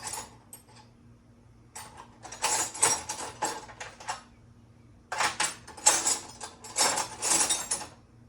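Wrench work on bolts of a farm truck during a Holley Sniper EFI install: bursts of metallic ratcheting and clinking come in two long clusters, close and moderately loud, with quiet pauses between.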